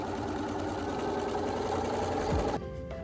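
A sewing machine runs at a steady, fast whirring hum while stitching the last French seam on a pillowcase, then cuts off sharply near the end, leaving quiet room tone.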